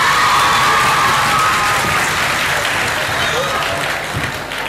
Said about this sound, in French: Applaudissez encore pour vous-même.